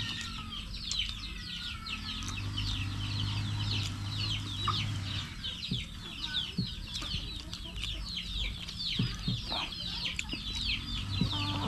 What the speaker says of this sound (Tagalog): Hoy, manok.